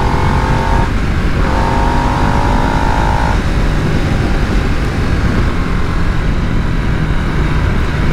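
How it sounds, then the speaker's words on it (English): A Harley-Davidson Nightster 975 motorcycle engine drones steadily under a ride with wind rush, its pitch climbing briefly early on before settling into a constant hum. "that motor sounds like a lawnmower at a standstill, but when you're going for it, it sounds glorious"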